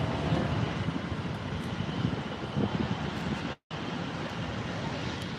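An Austrian Airlines airliner in Johann Strauss special livery at LAX airport, its engine roar a broad, steady rush close by, mixed with wind buffeting the microphone, broken by one brief dropout.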